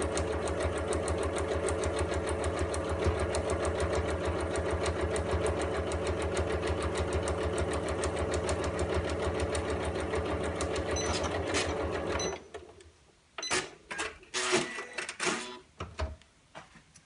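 A sewing machine runs steadily and close through fabric for a storage caddy, with back tacking at the start and end, a long even whir of stitching before it stops and a few short bursts follow.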